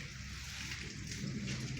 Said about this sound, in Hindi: बारिश बहुत तेज़ है, ये आप देख सकते हो।